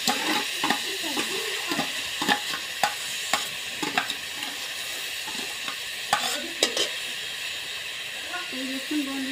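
Sugared grated coconut is stirred in a hot kadai over low heat: repeated scraping strokes of a spatula on the pan come at an irregular rhythm over a soft, steady sizzle, close and clear.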